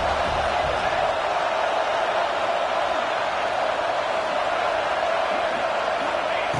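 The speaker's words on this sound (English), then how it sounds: "The Tide crowd rolling noise down onto Saban Field on 3rd down." Football stadium crowd roars loudly and steadily on a third down as the Crimson Tide defend, a dense, continuous wall of noise from a packed college crowd, close and unbroken throughout.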